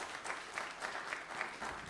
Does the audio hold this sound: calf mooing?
no